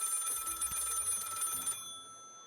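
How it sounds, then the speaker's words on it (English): A telephone in a video game rings in a steady electronic trill for nearly two seconds, then stops, leaving a quiet tonal hum. "Pick up the phone."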